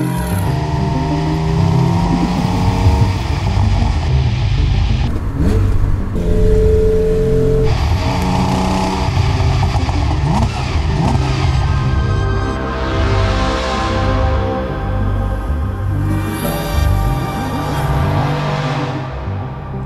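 A Porsche 911 engine revs repeatedly while being driven, rising and falling through the gears in loud, close sweeps with a raspy exhaust note and brief lulls between pulls.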